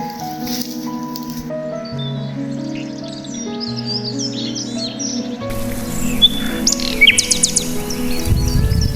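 Many birds call on a mountainside, with sharp chirps and tweets scattered over sustained musical tones, growing busier and louder in the second half.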